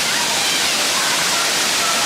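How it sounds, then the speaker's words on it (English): A waterfall on a hiking trail rushes in a loud, continuous broadband roar, close by and unbroken for the whole stretch. "I do love the waterfall"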